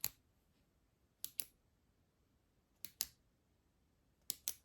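A reverse clicky tail switch on a bead-blasted titanium ReyLight Rook flashlight clicks in three crisp close pairs, each double click sharp and separated by about a second and a half of near silence.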